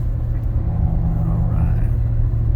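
A Ford Super Duty F-250/F-350 pickup with the 7.3-liter Godzilla V8 tows a load up a steep hill, its engine holding a steady, heavy low rumble heard from inside the cab.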